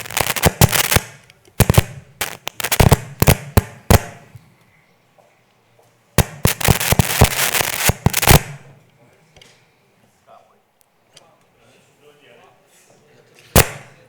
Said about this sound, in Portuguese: Isso é fogos, está tudo programado.